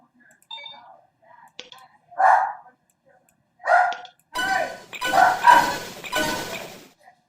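A pet dog gives a few loud, close barks indoors, first single yelps spaced apart, then a rapid burst of heavy barking near the end, over faint room noise.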